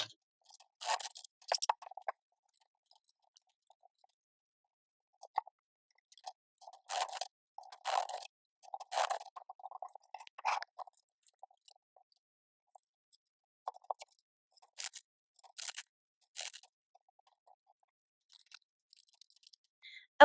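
Tarot cards riffle and slap down in quick, scattered bursts, close and fairly quiet, separated by brief silences, with a hurried, sped-up feel.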